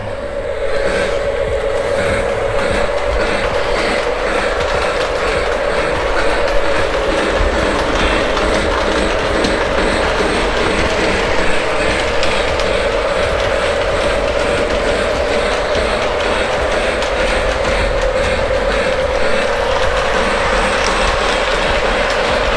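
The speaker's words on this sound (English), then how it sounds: "So let's watch the train do it." A model train runs continuously along a layout track, with a steady motor whine and rapid clicking of wheels over rail joints, close and loud.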